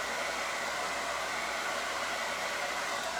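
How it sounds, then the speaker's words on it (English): An old hair dryer blowing air and heat onto a white door tag being stencilled, a steady close whooshing hiss with a faint motor whine, unbroken and with no talk. "a little bit of heat and a little bit of air from my hair dryer"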